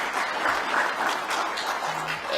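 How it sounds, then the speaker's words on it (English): Audience applause at a football association gathering for a CAF presidency campaign launch, steady dense clapping from a sizable crowd that holds throughout without letting up. "can we clap hands for them as well"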